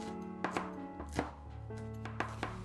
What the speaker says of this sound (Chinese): 红辣椒也切成圈